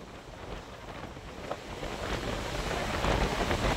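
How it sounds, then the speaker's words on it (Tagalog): Strong typhoon wind roars by the sea after a storm has wrecked fishing boats, a dense continuous gusting rush buffeting the microphone and mixed with surf, building slightly louder, with no talking. "At napakalakas pa rin ng hangin."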